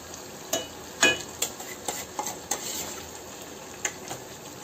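A spoon scrapes and clinks against a pan while masala is stirred into frying tinda, with sharp irregular clatters over a low, steady sizzle, close by and without talk.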